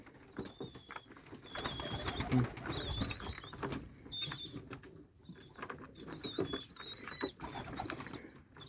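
Pigeons in a dovecote coo softly and repeatedly amid rustling, pattering and wing shuffling, with a voice talking faintly in the background.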